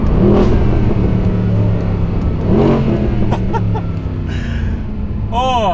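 A Mercedes with a dual-clutch gearbox accelerates hard, the engine revving up through quick gear shifts in loud, rising sweeps, close and dominant.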